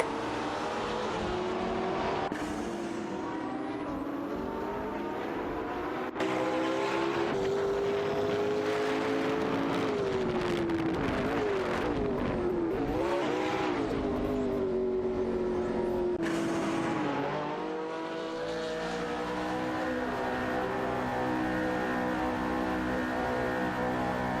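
Several AI race cars in a racing video game jostle on track, a constant layered engine drone with pitch sweeps as cars accelerate and pass, loud and unbroken apart from a few abrupt shifts in tone.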